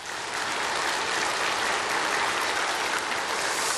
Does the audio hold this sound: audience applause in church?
yes